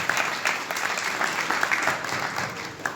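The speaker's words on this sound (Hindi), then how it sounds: "जरा एक बार ताली चाहता हूँ" An audience at a Ram Katha religious gathering in a temple claps together, a brief burst of dense applause with uneven peaks.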